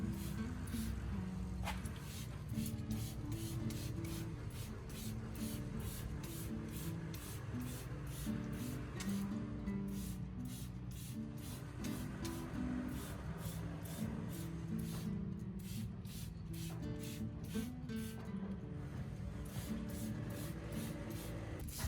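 Fine mist of roasted rice solution sprayed onto orchids, a faint, repeated hissing of spray bursts in a steady rhythm over about twenty seconds, with no talk.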